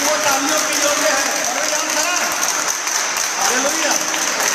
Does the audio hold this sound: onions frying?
no